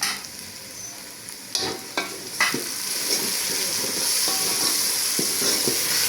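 Crushed green chillies hit hot oil and fry for kadhi pakoda, with a loud sizzle and several sharp utensil scrapes and knocks as they are stirred in the pan, close up and without speech.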